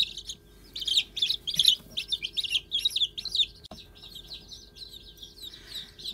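A group of young Millefleur d'Uccle bantam chicks chirps in rapid, high peeping bursts that are busiest early on and thin out toward the end, close and clear with no speech.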